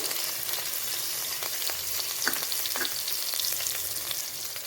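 Green chillies and garlic frying in a tempering with a continuous bright sizzle, a few soft stirring scrapes scattered through, close and steady with no talking.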